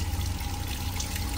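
Water runs steadily from a mineral spring fountain in the town of Serra Negra, São Paulo, a continuous close splashing pour with no voices over it.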